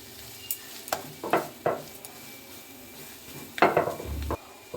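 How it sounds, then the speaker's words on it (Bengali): A spoon stirs and mixes a cabbage filling with green chilli in a pan, giving several clacks and scrapes against the pan in loose bursts over a faint background, close by and without speech. "এবার সব কিছু একসঙ্গে দেওয়ার পর আমি ভালো করে সবগুলো একসঙ্গে মিক্সড করে নেব।"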